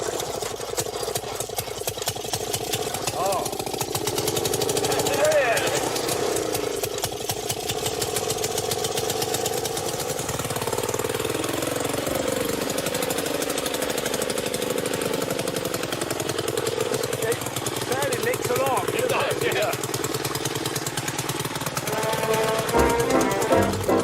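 An old motorised lawnmower engine runs steadily and loudly throughout, a close rough chugging drone with rapid mechanical pulses and slight shifts in pitch as it works across a British garden lawn.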